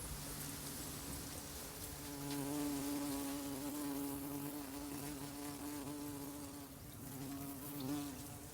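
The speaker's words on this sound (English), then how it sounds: "You know, the big bumblebees." Several large bumblebees drift around garden flowers, their steady droning buzz rising and falling in pitch as they move, continuous and fairly close throughout with no talk.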